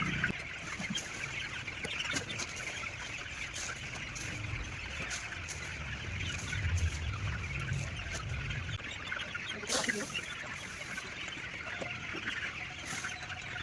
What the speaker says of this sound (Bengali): তো ম্যাশ দেওয়ার পরে দেখো মুরগিগুলো সব কেমন করে খাচ্ছে সব।